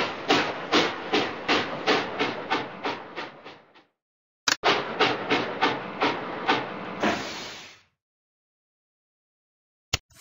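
A cartoon steam locomotive from a Curious George trains game chuffs in rapid rhythmic bursts, stops, then puffs again before a final long hiss and silence, with a faint click near the end.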